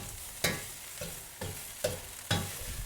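Egg and rice stir-frying in a pan for egg fried rice, a soft sizzle punctuated by five evenly spaced scraping and tossing strokes of a utensil against the pan.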